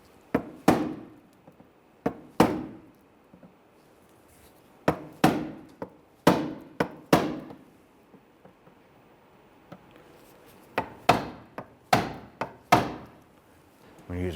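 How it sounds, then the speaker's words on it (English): Plastic push-pin centers on a 1999-2004 Jeep Grand Cherokee front bumper cover being punched out with a punch or pick, sharp irregular taps and knocks in short bursts, close and clear with long quiet gaps. "I'm going to use a punch or a pick here, and we're going to punch out the center"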